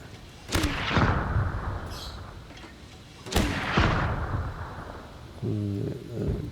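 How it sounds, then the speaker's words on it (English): Mortars fire in Total Tank Generals, a tank strategy game set at the Second Battle of El Alamein: two heavy booms about three seconds apart, each trailing into a rumbling echo, followed by a brief tonal interface blip. "We've got mortars, so we're just out of range there. But we can pop that."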